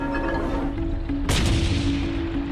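A single sharp tank gun blast from enemy armour in the Korean War bursts out partway through, ringing briefly over a steady low engine-like drone.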